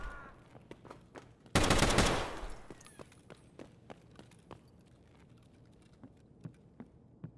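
M1A rifle gunfire in the video game Escape From Tarkov, heard as one loud close blast followed by a string of fainter, distant shots spaced irregularly.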